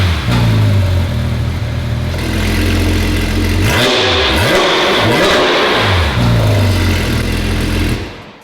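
A Porsche 992 GT3 RS engine with a titanium exhaust revs hard and close, rising and falling through several throttle blips over a loud, steady rumble.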